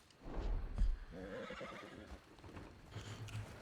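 A horse in a frontier-era role-play game gives a loud, close whinny that rises and trembles for about two seconds, with faint hoof clops and quieter snorting after it.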